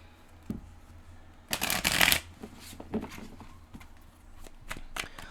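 Tarot cards are riffled and shuffled close by in one loud burst, followed by softer scattered slaps and slides as cards are drawn and laid down, with no one speaking.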